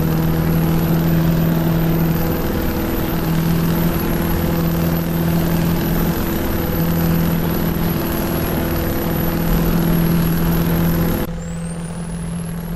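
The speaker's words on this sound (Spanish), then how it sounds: "Qué bien se escucha este motor" A Mack Ultraliner truck engine held at high revs while climbing with 40 tonnes in Euro Truck Simulator 2, a loud steady drone with a high whine that drops off sharply near the end.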